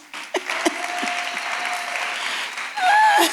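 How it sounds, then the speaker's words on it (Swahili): A church congregation applauds together, a dense, continuous wash of clapping hands that swells louder toward the end, with a voice briefly rising over the crowd. "Mpigie Yesu makofi."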